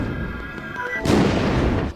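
Carnival fireworks in the horror game Letters of Bernard Thorne burst midway with a loud, broad boom that lingers and rumbles over a constant background hum.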